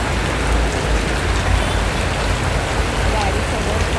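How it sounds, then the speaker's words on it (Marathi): Heavy rain pours steadily at Dombivli railway station, a dense, even hiss of drops drumming on surfaces that stays loud and unbroken from start to finish. "मी आले डोंबिवली स्टेशनला आणि भरपूर असा पाऊस पडतोय"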